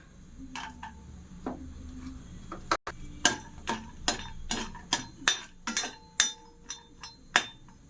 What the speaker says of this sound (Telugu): నెయ్యి వేసుకున్న తర్వాత కొంచెం వేడవగానే జీడిపప్పు వేసుకుందామండి. జీడిపప్పు వేయించుకుందాం.